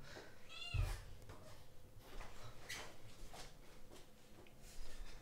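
An indoor cat meows to be let out, giving a few short, faint meows with small knocks and rustles around them in a quiet room.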